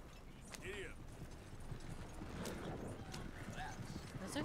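Horses pulling a covered wagon in a western video game, hooves clip-clopping steadily at close range with a brief whinny, under a voice talking.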